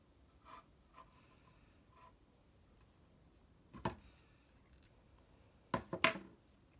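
Scissors snip through yarn while a pom-pom is fastened to a double-sided woven mobile, with a few faint cuts early and a sharper, louder cluster of snips near the end, quiet in between.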